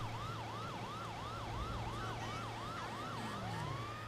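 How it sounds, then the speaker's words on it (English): A police vehicle siren in the video game GTA Online wails in a fast repeating whoop pattern, loud and close over a low engine drone, with a brief falling tone near the end. "I just like having the sirens on"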